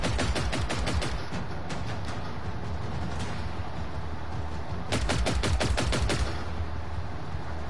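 Rapid bursts of automatic gunfire in the video game Generation Zero, rattling repeatedly through the opening seconds and again in a dense volley near the end, loud over a steady low rumble.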